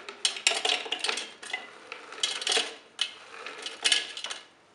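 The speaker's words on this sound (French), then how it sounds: "Je vais les insérer dans mon bol." Halved Tagada candy strawberries drop into a bowl in a home kitchen, making a series of light, close clattering knocks in irregular clusters with short pauses between them.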